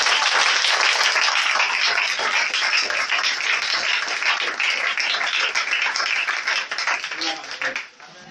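A church congregation applauds and cheers in praise of the Lord, dense sustained clapping and acclaim from a crowd that holds steady, then fades out at the end.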